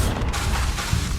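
A Confringo spell explosion in Hogwarts Legacy lands as a dense, low booming blast, sustained rumble filling the moment, with no voices over it.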